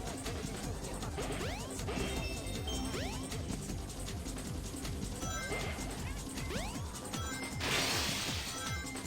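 Glass smashes in Sonic Adventure, a loud crash of breaking panes with scattered tinkling shards and whooshes over busy game sounds, with a further burst of crashing near the end.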